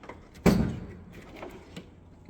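A drawer of a Milwaukee tool box slides open, a single quick rolling slide with a firm thud, followed by a few faint rattles of the tools inside.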